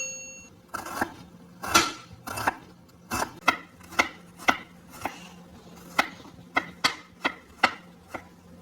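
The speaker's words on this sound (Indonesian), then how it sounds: "Dan kita potong bawangnya." A blunt kitchen knife chops shallots and garlic on a cutting board, about a dozen sharp, distinct knocks in an uneven rhythm. The sound is close and clear, with a low steady hum beneath and no talking.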